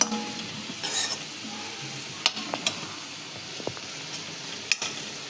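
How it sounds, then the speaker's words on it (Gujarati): Onion sautéing in a pan gives a soft, steady sizzle close by, broken by several sharp clicks and scrapes of a spoon stirring against the pan. "ડુંગળી શેકાય છે"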